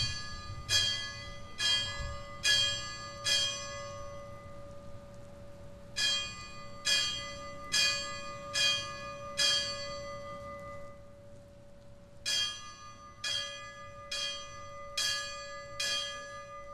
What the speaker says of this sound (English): the bells toll their last alarm